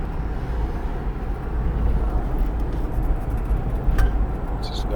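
A car drives along a road with a steady, broad low rumble of engine and tyre noise throughout, fairly close and continuous, with a brief brighter rise near the end and no talking.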